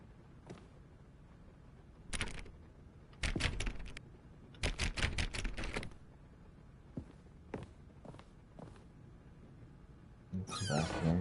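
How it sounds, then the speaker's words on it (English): Keyboard typing sounds in The Stanley Parable video game: sharp clicky bursts of rapid keystrokes in short clusters separated by quiet gaps, close and crisp. "he's like making fun of me by making these keyboard sounds"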